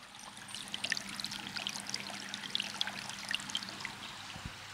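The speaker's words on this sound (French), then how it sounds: "Et on va l'écouter, cette rivière." A small river in a Provençal nativity scene trickles over pebbles brought from the south of France, a soft continuous babble with light bright droplet splashes, faint and close with no voices.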